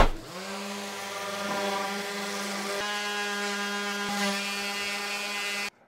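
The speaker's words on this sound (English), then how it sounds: "But now it's time to sand." A disc sander works on sassafras wood for a bench, a steady loud motor whine with strong even harmonics running throughout, briefly changing pitch as the wood is pressed against the disc, then cutting off abruptly at the end.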